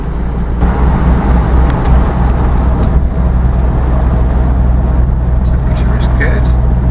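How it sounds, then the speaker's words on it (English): Car engine labouring up a very steep hill at just over 60 mph, loud and continuous with a steady low drone and road noise throughout. "we're doing just over 60 miles an hour up this very steep hill"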